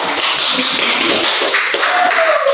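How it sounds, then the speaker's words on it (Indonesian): A classroom audience clapping applause, a dense close burst of many hands that stays steady and loud for the whole stretch. "tepuk tangan"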